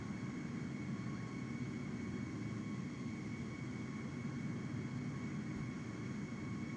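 Steady airplane engine drone from a nearby aircraft in a flight simulator game, a constant loud hum with no talking over it.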